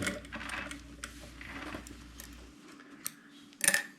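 Sewing machine stitching a safety seam on an apron, a brief motor whir and rapid ticking stitches that stop partway through, followed by a few small clicks and handling taps.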